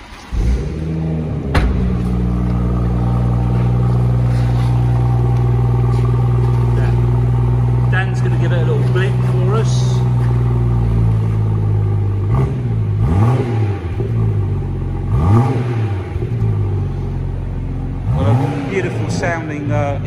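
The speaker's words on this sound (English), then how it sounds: "Exhaust note there." BMW M240i with M Performance parts fires up and its engine revs repeatedly, the exhaust note rising and falling in sharp blips over a steady idle rumble, with talk heard during the run.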